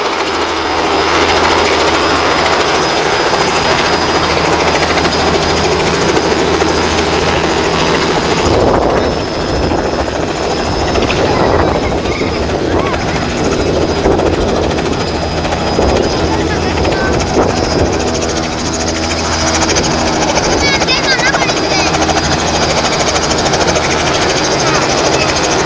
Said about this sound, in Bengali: হেলিকপ্টারটা আসছে ঢাকা থেকে।